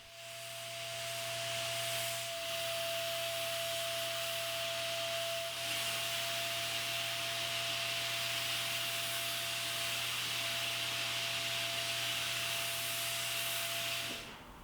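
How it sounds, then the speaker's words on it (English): A Rockler HVLP spray system sprays lacquer finish onto a Douglas fir table in a steady, loud hiss that runs almost unbroken for about fourteen seconds, with a faint constant hum from the turbine beneath. "this is the Rockler HVLP spray system"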